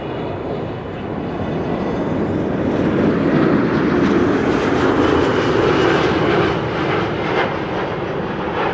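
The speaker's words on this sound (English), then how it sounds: "This is Delta Airlines flight 236 arriving from Tampa in Florida, A330-300, 8 hours and 50 minutes on the way" A Delta Airlines Airbus A330-300 airliner arriving at Amsterdam Schiphol Airport, its loud jet engine roar swelling steadily and holding with a broad rushing tone, heard from outdoors with some wind.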